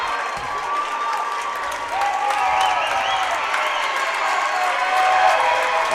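A crowd at a high school sectional wrestling match applauds and cheers, dense sustained clapping with scattered shouts and whistles, steady and full throughout.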